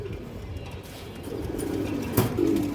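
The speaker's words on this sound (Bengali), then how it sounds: "আরেক জোড়া তোতা সাহেবের কবুতর আছে" Pet pigeons coo softly at close range in a short, low, murmuring burst with faint background noise.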